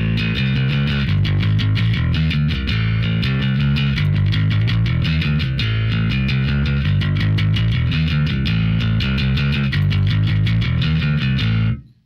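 Loud distorted electric guitar riff in a hard rock style, played as a steady chugging pattern with ringing chords throughout, alone without talk, cutting off abruptly at the end.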